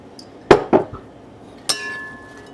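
Utensil clinks and knocks against a bowl while a white wine vinegar dressing is mixed, a few sharp separate strikes close by with quiet between them, no talking.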